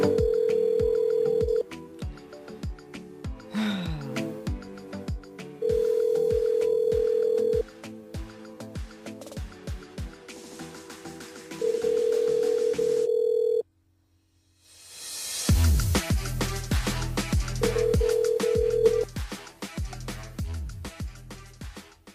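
On a live radio show, a phone call back to a listener brings repeated long ringback tones broken by dialing beeps and clicks, then a brief silence and a burst of louder line sound.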